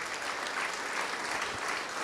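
Church congregation applauding in worship, a steady, dense wash of many hands clapping together, loud and continuous with no speaking over it.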